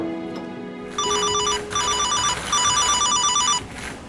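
A mobile phone rings with repeated bursts of a bright electronic ringtone, loud and close, after a short lower tone, in a quiet indoor room.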